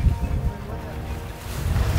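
A boat motoring across open water toward a snorkeling spot in the Maldives, with a low steady engine rumble and rushing wind buffeting the microphone, plus splashing waves throughout.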